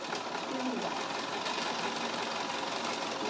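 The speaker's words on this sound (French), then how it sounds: "je couds sur toute la longueur" Sewing machine running steadily as it stitches along the full length of a fabric tote bag piece, a continuous mid-level mechanical whir without pause.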